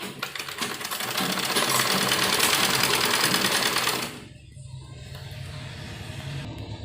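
A sewing machine stitching an embroidered sleeve runs in a fast, steady whir of needle strokes for about four seconds, close and loud, then stops, leaving a quieter room.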